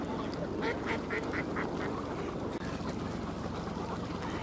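Several ducks wintering on ice at Tsarskoye Selo quack in a rapid, repeated series early on, then fade into a steady low rumble of background noise.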